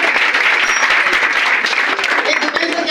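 A crowd at a direct-selling business speech claps in a continuous, dense wash of applause that holds steady and loud for the whole stretch.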